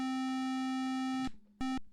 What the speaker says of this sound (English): what you're hearing there is the awesome DOS music